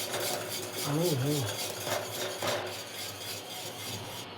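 Khichu flour mixture stirred with a utensil in a pot in a home Gujarati kitchen, a steady close scraping rub with a faint clink partway through, no talk.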